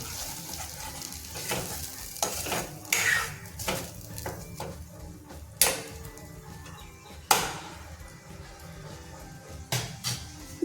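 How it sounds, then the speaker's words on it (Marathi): Spice paste for misal sautéing in hot oil in a pan, a steady sizzle with a spoon scraping and clinking against the metal, several sharper knocks scattered through, close and fairly loud with no talk. "तिलाही अगदी चांगलं तेलामध्ये परतून घ्यायचं आहे."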